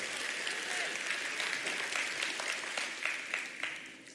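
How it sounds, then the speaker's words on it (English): A church congregation claps together during a sermon, a soft, fairly distant wash of hands that holds steady and fades slightly at the close. "Somebody want to clap right there."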